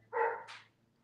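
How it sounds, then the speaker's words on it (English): A household dog gives a single short bark, moderately close, over a faint steady background hum. "hopefully my dog stops barking"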